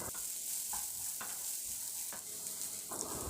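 Ridge gourd sautéed with masala in a pan: a soft, steady sizzle broken by four or five evenly spaced spatula scrapes, fairly quiet and close.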